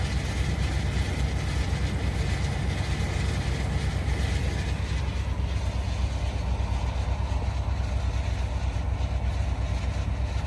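Steady mechanical whir and chatter from a vehicle with an 8L90 automatic transmission being serviced, a loud continuous buzzing hum with fine rattling texture, unchanging throughout.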